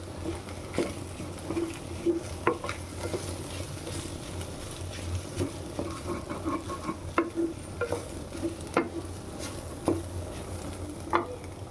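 Food stirred as it fries in a pan, a continuous low sizzle broken by repeated scraping and clinking spoon strokes at an uneven pace, close up and without talk.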